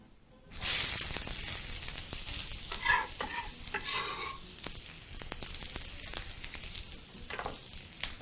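Onions dropped into an oiled pan burst into a loud, close hiss that settles into a continuous sizzle, with faint clicks and stirring underneath for several seconds.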